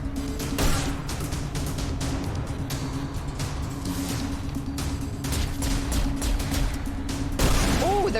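Enemy gunfire crackles in the sci-fi video game The Fall, sharp shots and bursts recurring through a tense combat exchange over a steady low hum and game effects, loud and close.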